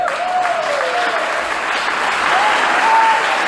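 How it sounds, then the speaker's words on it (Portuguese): A church congregation claps loudly and steadily throughout, a dense wash of hands with faint voices and a high whistle-like tone drifting over it. "Se for para aplaudir o Senhor, aplauda com vontade."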